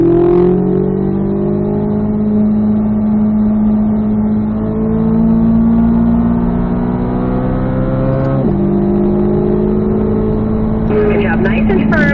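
A Chevrolet Corvette C8 Z06 on a race track pulls hard with a loud, sustained engine note, rising through the gears with a shift partway through, while an instructor talks over it.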